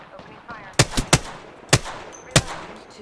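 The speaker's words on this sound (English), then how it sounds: "Opening fire." Gunfire in the video game Apex Legends: several sharp, loud shots in an irregular burst of about five, standing out clearly over a low background.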